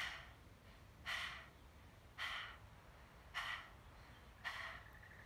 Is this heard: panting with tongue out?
yes